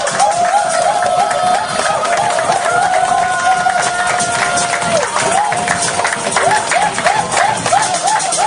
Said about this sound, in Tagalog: 3 milyon palakpak!